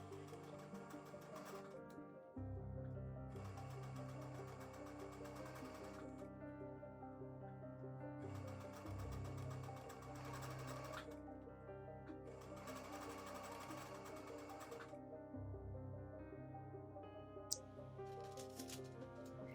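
A sewing machine stitches a fabric face mask, running in several bursts of steady rapid stitching separated by short pauses, close and fairly loud, with no talking.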